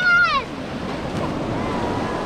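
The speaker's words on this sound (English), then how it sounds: "Ceci, look! Here comes the wave, Ceci, go in the water!" An ocean wave rushes up the sand at Ortley Beach, a broad steady wash of surf and wind, with a short high voice at the very start.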